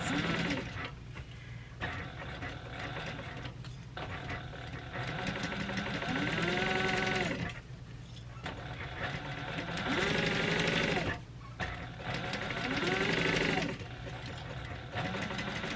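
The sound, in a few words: sewing machine back stitching a tote bag seam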